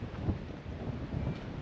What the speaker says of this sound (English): It's a bit windy. I apologise for the wind.